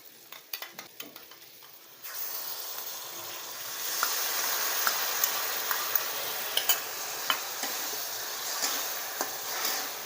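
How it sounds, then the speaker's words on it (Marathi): Curd being stirred into a masala with a spoon: a few sharp spoon clinks at first, then a steady close hiss of sizzling with regular light taps of the spoon against the pan. "दही चमच्याने असं बघा असं हलवायचं"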